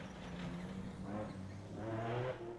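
The Rubicon Racing Ford rally car in the Nkomazi 450 rally gives off a steady engine drone that swells and revs in two rising surges, fairly faint and continuous with no talking.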